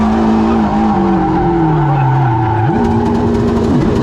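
A Honda S600 runs an autocross course of cones in a parking lot, its engine droning loud and close with rising and falling pitch as it shifts, and tires squealing through the turns.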